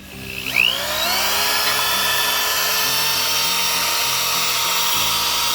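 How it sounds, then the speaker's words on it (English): A rotary wire wheel brush grinding rust off the steel frame of a 1994 Ford F-150, a loud steady whine that spins up in the first second and holds alone throughout. "wire brushing off the frame and stuff with his wheel wire brush"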